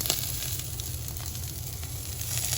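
Salmon and tomatoes sizzle on a smokeless grill with a steady, bright crackling hiss that holds at an even level throughout, close and unbroken. No talk is heard.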